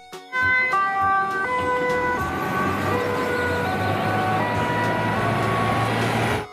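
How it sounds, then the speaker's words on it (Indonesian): A toy fire truck's loud electronic siren wails in stepped tones, close, sounding continuously for several seconds before cutting off. "di sini ada truk pemadam kebakaran"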